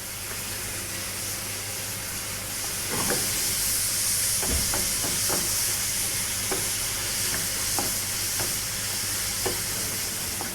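Shallots and tomatoes sauté in olive oil, giving a steady loud sizzle and hiss throughout, with scattered clicks and scrapes of stirring up close.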